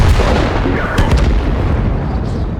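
Tank cannon firing a 122mm shell in World of Tanks: a heavy, loud boom with a dense, rumbling wash of battle noise that stays loud for the whole stretch.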